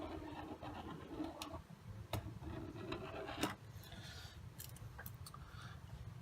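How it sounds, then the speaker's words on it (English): Plastic strip being scribed with a caliper point to mark a line for scratch-built O scale tie plates, a faint close rasping scrape with a few sharp ticks, no voices. "I'm just going to scribe a quick line"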